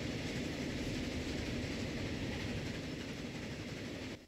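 A train rolls steadily along the track as a continuous, fairly loud rumble with a rushing hiss, heard alone and fading out at the end.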